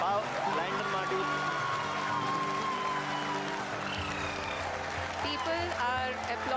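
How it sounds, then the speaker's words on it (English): A crowd applauds the Chandrayaan-3 landing with steady, sustained clapping under ongoing talk and broadcast sound. "People are applauding."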